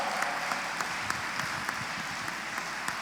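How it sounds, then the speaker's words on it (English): An esports audience at the Quake Pro League Stage 1 finals claps steadily for the two players, a dense wash of hand claps with occasional louder individual smacks throughout. "can we please have a round of applause for both of these guys"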